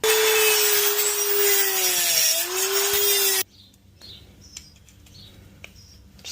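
A hose is cut on an Infiniti during a dual oil catch can install, giving a loud, steady power-tool whine with a pitch dip midway that stops abruptly, leaving faint ticks and clicks.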